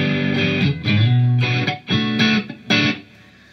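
An electric guitar through distortion is picked in short separate bursts, several notes and chords ringing briefly with gaps between them, played at a softer attack, close and alone.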